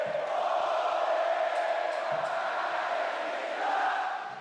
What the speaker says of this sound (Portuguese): O grito ficou ainda mais alto,